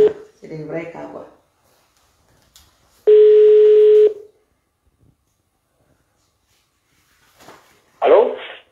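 A telephone call being placed back to an earlier caller: a single steady electronic dial tone sounds for about a second, set between short bursts of voices before and after.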